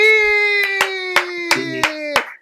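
About six sharp hand claps land at a steady pace during an F1 2020 esports race broadcast, each crisp and close. A sustained, tonal hum runs beneath them the whole time.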